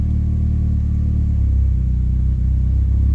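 A Honda engine idles while its ignition timing is set: a steady, loud low rumble with a slight rise in level partway through, with no talking over it.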